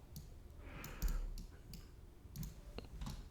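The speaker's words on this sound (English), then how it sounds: "Right click to turn the preview off." A computer mouse gives a few small, quiet clicks at sparse intervals over a faint room hiss.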